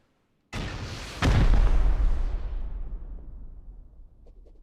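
A rocket explosion against base walls in the video game Rust: a sudden sharp blast followed a moment later by a heavier booming impact that rumbles and slowly fades over several seconds, loud and alone.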